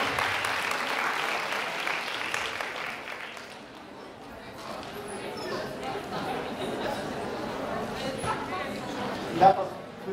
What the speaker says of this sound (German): Ein Applaus für die ersten beiden